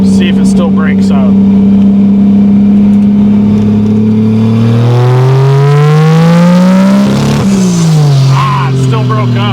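A Toyota Supra MK3 with a swapped 2JZ turbo engine accelerates hard on pavement, its loud engine note climbing steadily and then stumbling and breaking up under boost, with people talking over it throughout.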